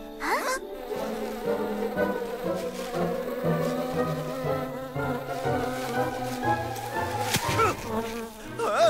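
A cartoon bee buzzes steadily and close for the whole stretch, its whining drone rising and falling in pitch over a bright musical backing.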